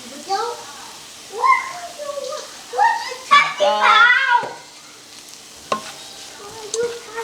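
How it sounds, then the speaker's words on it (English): Pecan meat and keto noodles warming in a pan: a soft sizzle and stirring sit underneath a person talking close by, with the voice dominating most of the stretch. "I'm gonna let this cook just a little bit longer to make sure my pecan meat is warm"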